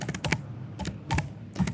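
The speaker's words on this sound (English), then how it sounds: "you can type in a text prompt to generate a pattern" Brief clusters of computer keyboard keystrokes as a text prompt is typed, light crisp clicks in three or four short bursts with pauses between, close and alone.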